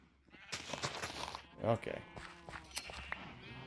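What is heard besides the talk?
sheep bleating in the video game Minecraft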